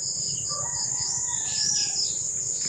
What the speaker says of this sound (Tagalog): may dumating na ibon